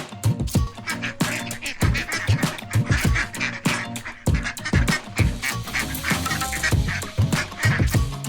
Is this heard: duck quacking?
yes